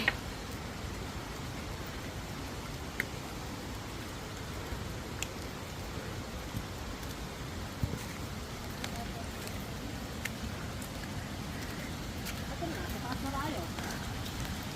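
Steady rain falls near a waterfall in Luisiana, Laguna, a continuous close hiss with scattered small drop ticks and no clear talk.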